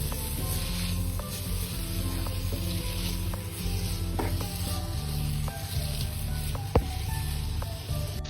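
Vegetables with ginger and garlic powder stir-frying for veg spring rolls, a close, steady sizzle and crackle with scattered spatula taps and stirring, no voices.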